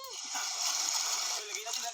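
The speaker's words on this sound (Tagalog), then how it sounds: "Kaya maingay ang tubig dagat. Humahampas sa mga bato." Rough sea waves crash against shoreline rocks in a continuous loud, hissing wash of surf and splashing, with a voice audible over the roar.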